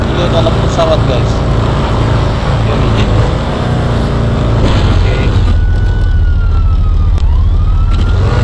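A police car siren wails through a busy street scene, its rising and falling tone sweeping over dense traffic and crowd noise for several seconds, with voices present in the mix.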